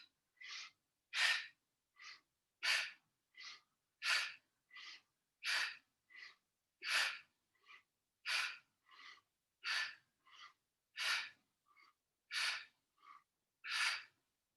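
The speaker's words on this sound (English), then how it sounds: "in the Kundalini practice, you would also do quite a sharp in and exhale" Sharp Kundalini yoga breathing: quick forceful inhales and exhales alternate in a steady rhythm, about twenty close, clear breath bursts over roughly fifteen seconds with silence between them.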